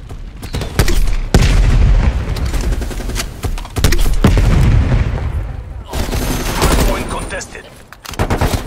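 Call of Duty Cold War multiplayer hardpoint match: loud bursts of gunfire and sharp explosive booms from a flashbang grenade, dense and continuous, with brief gaps between volleys.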